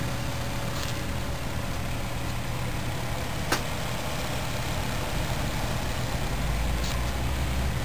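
A Jensen 55 toy steam engine drives stepper generators from its small power takeoff, giving a steady, continuous mechanical hum and whir at an even level throughout, with no talking.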